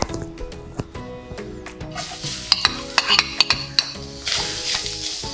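Grated coconut being stirred and dry-roasted in a kadai, with a steady soft sizzle under repeated scraping and clinks of a metal spatula against the pan, close and fairly quiet.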